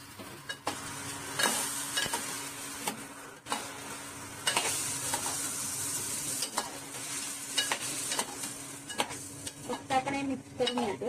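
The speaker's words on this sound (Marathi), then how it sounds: "यात आपण ही भेंडी टाकतोय. भेंडी परतवली मग ही घोसाळी करतोय." Okra and ridge gourd sauté in a pan, a soft steady sizzle under repeated stirring scrapes and light utensil knocks against the pan, close and fairly quiet, no voices.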